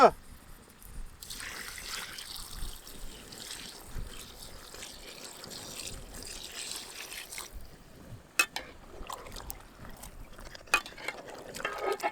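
Water poured into a pan while cooking stuffed ridge gourd masala with ground spice paste, Byadagi chilli powder and rock salt. A steady trickling pour runs for several seconds, followed by quieter kitchen clatter and brief clinks.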